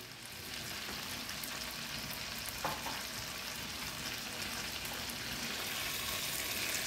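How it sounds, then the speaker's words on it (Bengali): Frozen peas and paneer pieces hiss quietly in a pan for matar paneer, a steady, soft frying sizzle that holds evenly throughout with no talking. "এবার এটার সাথে সাথেই আমি পনিরটাও অ্যাড করে দেবো।"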